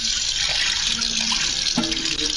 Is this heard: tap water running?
yes